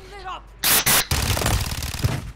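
A Modern Warfare 2 gun fires in Call of Duty: two loud, sharp bursts of automatic fire, then a dense rattling stretch. A voice is heard briefly just before the shots.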